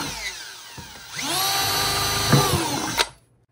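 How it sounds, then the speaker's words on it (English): A power drill whines up to speed and bores through the bottom of a plastic pail used as a bear snare bucket, one steady sustained burst with a clunk near the end before it winds down and stops. "drill a hole or two."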